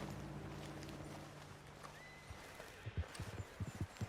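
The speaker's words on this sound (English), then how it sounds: "What's got this horse spook, huh?" A spooked horse neighs and whinnies in the Red Dead Redemption 2 video game, a long drawn-out call that is loud and close. Sharp clip-clop hoof beats follow near the end.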